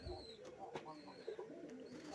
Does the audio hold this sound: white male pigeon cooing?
yes